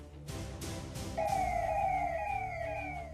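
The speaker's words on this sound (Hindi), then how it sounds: "बलून से सजी धजी पुलिस की गाड़ियां और सायरन बजाते निकलते पुलिस के जवान" A police car siren, on a balloon-decorated patrol vehicle, starts up after a few low thumps and wails steadily up and down, loud and close.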